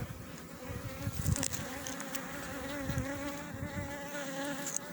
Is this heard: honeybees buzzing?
yes